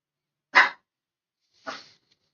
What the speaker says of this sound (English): It's just my dog.